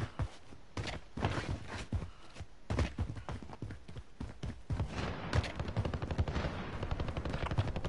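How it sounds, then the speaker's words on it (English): Machine-gun fire in a video game around a quarry, somewhat distant, with scattered single shots and short bursts that become a rapid, continuous rattle toward the end. "I think those shots are over there"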